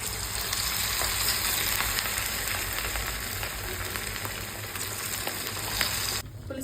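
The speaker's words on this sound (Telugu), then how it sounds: "ఇప్పుడు ఫిష్ ఫ్రై చేసేసుకుందామా?" Fish, for a Nellore-style chepala pulusu, fries in a hot pan with a loud, dense, continuous sizzle and spatter, close and steady throughout, with no talking.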